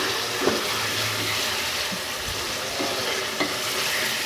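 Ginger garlic paste being mixed into a chicken karahi sits under a loud, dense, continuous sizzle, with a few faint scrapes and knocks of the spoon against the pan.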